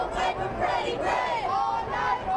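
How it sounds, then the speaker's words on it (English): Protest crowd on a Baltimore street chants in a rhythmic, sing-song unison, many voices rising and falling together at moderate distance. "The chant here, if you can't make it out, is all night, all day, we will pray for Freddie Gray"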